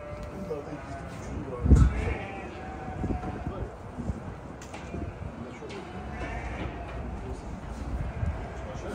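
Sheep bleat faintly amid a busy barn housing sheep, goats and ewes with lambs, with one louder bleat early on and scattered animal calls and voices in the background.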